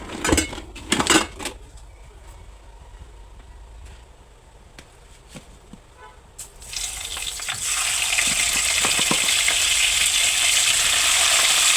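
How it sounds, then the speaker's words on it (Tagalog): Fish frying in hot oil for a malunggay dish, a steady sizzle that swells loud and constant in the second half after a few clinks and taps of utensils at the start. "Umpisa na tayo guys sa pagprito ng isda"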